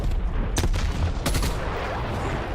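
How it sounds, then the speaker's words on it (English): Sentry turrets firing in a video game, with two sharp bursts of gunfire over a constant rumbling game background. "Sentry turrets active."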